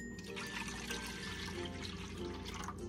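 Cold water pours into a basin of hot water being mixed lukewarm for softening rice paper, a steady, soft splashing trickle running continuously and fairly quiet.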